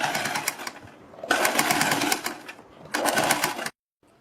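A sewing machine stitches a plate-style neck design in three bursts of rapid needle chatter separated by short pauses. It stops abruptly near the end. It is close and clear, with no speech.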